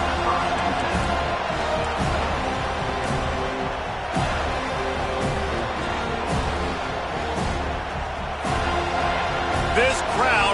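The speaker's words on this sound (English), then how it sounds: "This crowd bringing an ear-splitting welcome to their visitors." Loud, dense football stadium crowd roaring in welcome for the visiting team, a steady wall of cheering with scattered shouts, under a commentator's voice.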